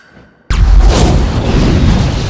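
A sudden loud explosion in an action film bursts in after a brief quiet moment, followed by a sustained roaring rumble that stays heavy and dense.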